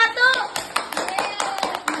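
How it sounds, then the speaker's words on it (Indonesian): A burst of clapping from a group of university students in a classroom, irregular hand claps mixed with voices chattering over it. "Tepuk tangan dong buat kelompok"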